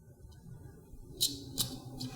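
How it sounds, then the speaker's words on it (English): Scissors snip through leftover kumihimo braiding cord, giving two or three short, crisp cuts close by against a quiet room. "So just use your scissors,"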